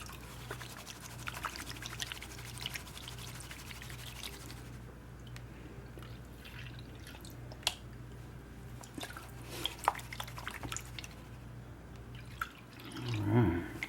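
Water sloshing and dripping in a gold pan while panning a bag of paydirt, faint scattered drips and swishes over a low steady hum, ending in a slightly louder slosh.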